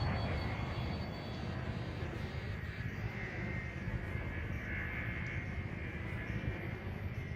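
A spaceship engine in Elite Dangerous gives off a steady, dense, low roar with a rumbling texture, constant for several seconds and heard alone.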